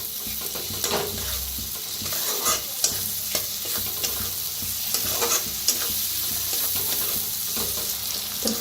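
Tomatoes roasting in hot oil in a pan, a steady close sizzle and frying crackle with occasional stirring scrapes and clinks throughout, no talking.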